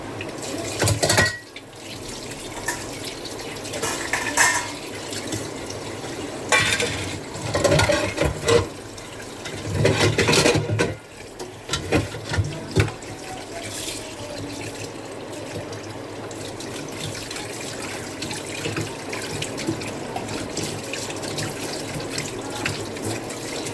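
Tap water runs and splashes unevenly into a sink while goat mutton is washed by hand, loud in bursts and then quieter.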